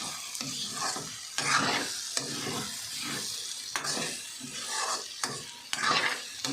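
Egg being stirred in a frying pan while an eggplant omelette cooks, with steady sizzling and repeated scraping strokes of the utensil, close and continuous, no talking.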